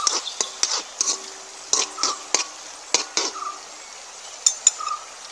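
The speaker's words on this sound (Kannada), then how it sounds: "ಈರುಳ್ಳಿ ಹಾಕ್ಕೊಂಡು ಅದನ್ನು ಸ್ವಲ್ಪ ನಾವು ಫ್ರೈ ಮಾಡಬೇಕು" Onions frying in a pan for a crab curry, stirred with a utensil that taps and scrapes the metal in quick irregular strokes over a soft sizzle, close and clear with no talking.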